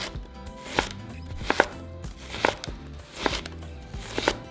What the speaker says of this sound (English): first we're going to start by cutting our onion into small strips.